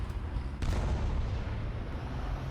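A French EBR 1954 armoured car firing its cannon in War Thunder, giving one sharp, loud blast with a heavy rumbling boom that rolls on under continuous engine and battle noise.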